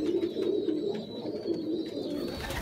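Domestic pigeons coo in a low, soft rolling murmur, repeating steadily throughout at close range, with a faint high whistle drifting above and no voices.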